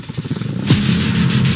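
A Toyota GR Corolla engine fires up with a quick burst of cranking and rising revs, then settles into a loud steady idle close by, with no talking over it.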